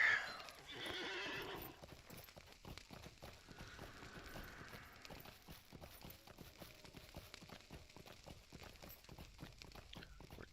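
Horse hooves clop steadily at a riding pace in Lord of the Rings Online, a quick, even rhythm of thuds that is close but faint, opening with a whinny.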